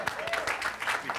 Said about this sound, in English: applause for Jack